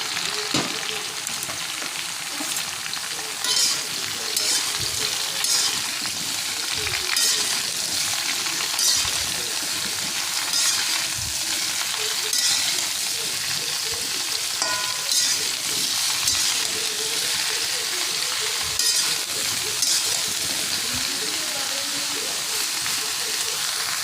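Potatoes and bottle gourd frying in a pan with oil, a constant loud sizzle broken by repeated scraping stirs, close up and steady throughout.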